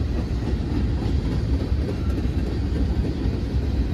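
A freight manifest train led by a UP locomotive rolls past close by, a dense steady roar of railcars with faint rhythmic clickety-clack over the rails throughout.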